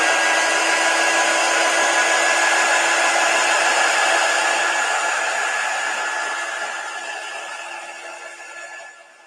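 A hair dryer blows steadily while drying a wet chalk craft piece, a loud, continuous whir that tapers off toward the end as it switches off.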